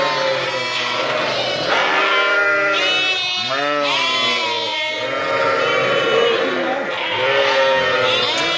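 Kangal Akkaraman ewes and twin lambs bleat continuously nearby, high wavering lamb cries alternating with deeper ewe calls, crowded and overlapping with little pause.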